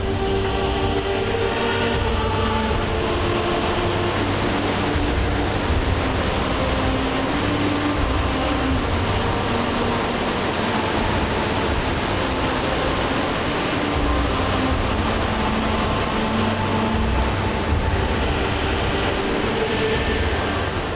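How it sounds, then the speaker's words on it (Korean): Roaring waterfall on the Mekong River at Li Phi, Laos, where the river pours over huge boulders; a loud, steady broadband rush of water fills the whole stretch without a break, close and continuous. "메콩강과 거대한 바위들이 만들어낸 리피 폭포인데요."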